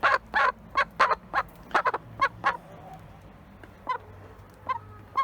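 A chicken squawks loudly in a rapid series of harsh, clucking cries, then calls a few more times more sparsely, close and agitated.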